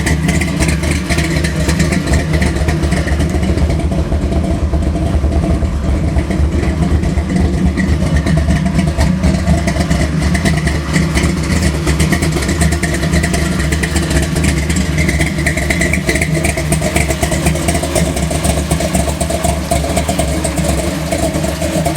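A 1970 Chevy Chevelle Malibu pro-street car with a large carbureted block, no supercharger or nitrous, idles loud and steady through its exhaust pipes, a deep continuous rumble held up close for the whole stretch.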